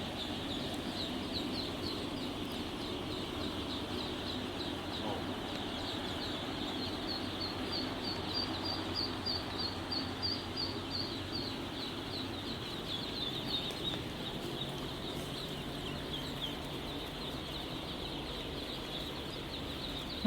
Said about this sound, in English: It's our new shipment of baby